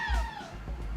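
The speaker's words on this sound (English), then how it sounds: "Oh, that's my cat." A house cat meows once, a short falling cry close to the microphone, with faint room noise and low rumble beneath.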